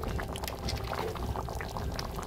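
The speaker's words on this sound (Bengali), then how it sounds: "একটু ফুটতে দেব" A vegetarian long bean and potato curry bubbles in a pan, a close, continuous soft boiling and popping with no voices.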